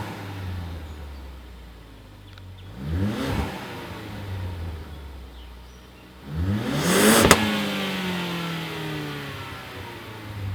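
A Ford Focus ST with its stock exhaust idles with a low, steady rumble, then is revved sharply twice, each rev rising and falling back to idle, with a sharp pop at the end of the second.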